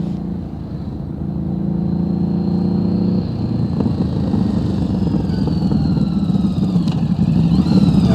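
A motorcycle engine runs during slow-speed riding practice, idling low before its revs rise and hold at a steady, close, loud drone with light mechanical clatter.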